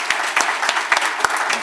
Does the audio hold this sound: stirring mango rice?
no